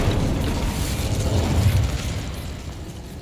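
An Incendio fire spell is cast in Hogwarts Legacy, a loud sustained whooshing burst that fills the clip with a steady roar and slowly fades.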